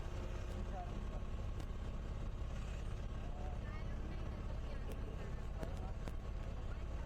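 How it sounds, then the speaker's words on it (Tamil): Steady low engine drone of a share auto rickshaw while riding through traffic on the way back to Chennai, continuous and close, with faint road noise and occasional light knocks. "பட் இது ஷேர் ஆட்டோ தான்."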